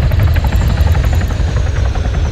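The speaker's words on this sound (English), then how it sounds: "We got a Chinook." A Chinook helicopter in the game Arma 3 roars close by, its rotor thudding in a steady rapid chop over a loud engine whine.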